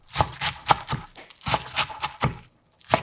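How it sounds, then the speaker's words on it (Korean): A knife finely chopping blanched spring cabbage on a cutting board, with a series of crisp, close taps in quick uneven clusters and a short pause near the end. "가지런히 정리해서 송송송 잘게 썰어주고 서로 방향으로 4번 작게 잘라"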